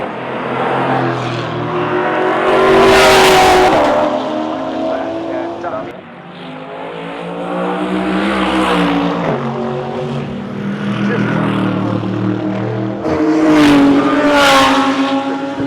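Supercars race at full speed around the Bathurst circuit, their engines surging and fading as cars pass close by in loud, overlapping sweeps, with a sharp roaring burst near the start and another near the end.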